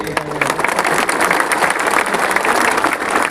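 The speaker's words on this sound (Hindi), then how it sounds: "सब इनको भी एक बड़ा ताली दीजिए।" An audience at a public gathering in Sabroom, Tripura bursts into applause, a dense, steady clapping that carries loud and even throughout.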